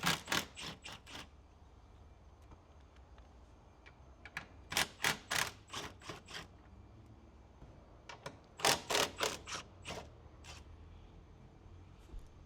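A ratchet with a 12mm socket and extension clicks in quick bursts of sharp ratcheting while removing top hat bolts on an Infiniti G37 coupe's suspension, quiet and close, with pauses between runs.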